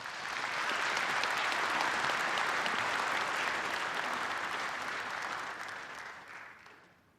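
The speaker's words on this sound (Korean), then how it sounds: "여러분 큰 박수로 맞이해 주시기 바랍니다" An audience claps in sustained, dense applause to welcome a choir of all ages performing with a four-man male vocal group at a patriotic ceremony, the clapping steady and full before fading out near the end.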